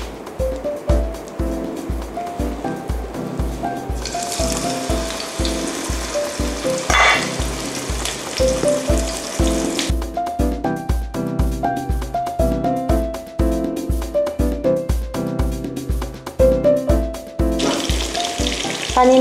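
Flattened pork larb patties deep-fry in hot oil, a continuous bubbling sizzle that rises and falls beneath steady rhythmic background music with a pronounced beat.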